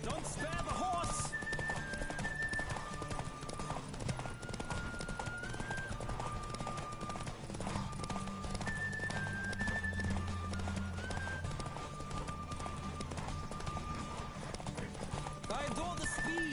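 Horse hooves clip-clop in a steady gallop in The Witcher III, with occasional whinnies over a continuous bed of game music and ambience, under speech throughout.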